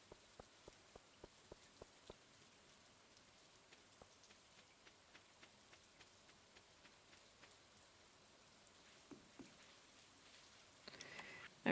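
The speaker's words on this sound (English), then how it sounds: "Especially while it's raining." Rain in the farming game Stardew Valley Expanded, heard as soft, steady patter with a run of distinct evenly spaced drip ticks near the start. It stays faint and alone, with a slightly louder rustle at the very end.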